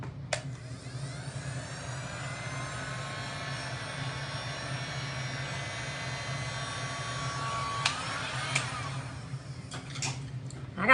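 A dryer blows on painted glass art, a steady whining whir held for several seconds, then cut off, followed by a few light clicks and knocks.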